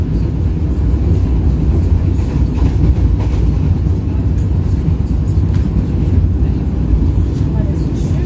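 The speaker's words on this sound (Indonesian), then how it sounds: "kereta api Mutiara Timur yang membawa saya ke kota Jember ini melanjutkan perjalanan ya kawan, menuju Banyuwangi" Mutiara Timur passenger train running toward Banyuwangi, heard from inside the carriage as a loud, continuous low rumble and rattle of wheels on track with no break.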